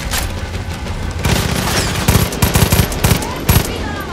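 Automatic weapon fire in Far Cry 5 cracks out in loud, rapid bursts, with clusters of punchy shots and booming blasts over a busy battle background.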